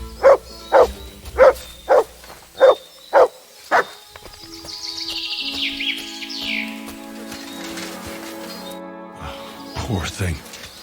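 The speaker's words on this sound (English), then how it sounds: "Good dog, Matt." A dog in the medieval video game Kingdom Come: Deliverance II barks seven times in a steady, evenly spaced rhythm, loud and close. The barking then stops, and quieter ambient game sounds with faint bird-like chirps follow.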